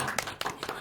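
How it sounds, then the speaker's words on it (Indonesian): Brief burst of applause from a small group in a podcast studio, congratulating a student accepted into a mechanical engineering program at university; a few close, sharp claps over less than a second. "Boleh dong, minta tepuk tangannya dulu."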